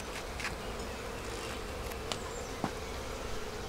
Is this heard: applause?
no